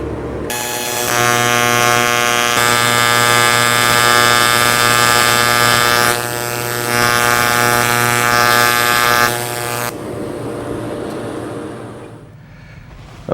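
TIG welding a corner joint: a steady, loud electrical buzz with a strong harmonic hum runs continuously for about ten seconds, then the arc cuts off and only quiet room noise remains.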